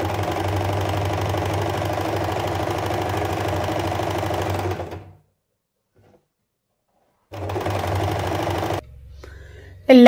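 A sewing machine stitches the half-inch folded hem of a pleated yoke nightgown, a fast steady mechanical whir for several seconds. It stops into silence, then runs again briefly, with a short click at the end.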